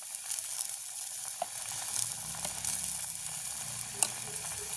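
Mothakavalli tuber fries with salt and chili powder in a village kitchen, giving a continuous close sizzle with scattered crackles and occasional stirring clicks, no voices.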